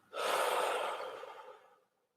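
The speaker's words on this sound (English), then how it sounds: "Hold it there for 1 moment. And breathe out." A person exhales slowly and deeply after holding a full breath during a guided mindfulness breathing exercise, a single close, airy breath out lasting under two seconds and fading to silence.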